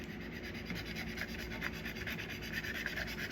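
Steady scraping of old finish off a wooden gate leg table, a soft continuous rasping rub with small irregular strokes, quiet and close, with no talking.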